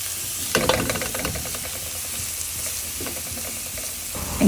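Garlic and onion sauté in a hot pan with a steady, close sizzle, broken by a few scraping stirs.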